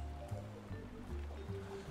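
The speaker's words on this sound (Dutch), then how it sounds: "Hier een emmer water plaatsen." A bucket of water placed in Minecraft gives a soft, faint watery slosh and trickle, short and quiet.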